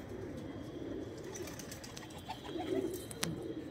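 Soft, low cooing from a Rajasthani Lalsira pigeon pair, black-tailed and full-sized, in a loft, with a steady murmur underneath and a brief sharp click near the end.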